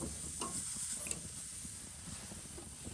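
Chicken pieces on a hot grill sizzle softly and steadily, with a few faint scrapes and clicks as they are flipped, close by and quiet, with no talking.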